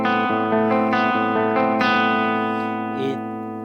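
An electric guitar plays a clean tone with both pickups blended toward the bridge pickup, picked chords ringing out in a short sequence with a slight chorus-like shimmer, alone and fading at the end.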